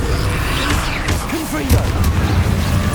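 A Confringo explosive spell goes off in Hogwarts Legacy with a booming burst and crackle, mixed with game effects and a brief voiced cry.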